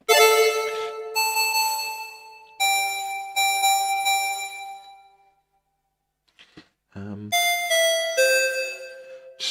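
A Korg NTS-3 Kaoss Pad synth plays bright, bell-like tonal notes in several sustained bursts, with a short pause of near-silence before a final run of chiming tones.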